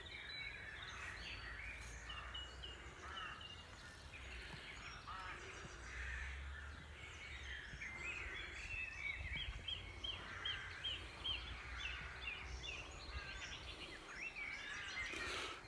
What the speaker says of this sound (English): just listen to the bird song